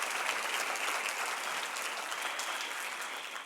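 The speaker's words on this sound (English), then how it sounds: "You can clap." An audience at a college thank-you and farewell evening breaks into applause, a dense, even wash of clapping that holds steady and tapers slightly at the end, no voices over it.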